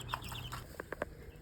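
Baby chicks in a chicken coop give soft peeping clucks, a few short calls clustered together at close range over a low background hum.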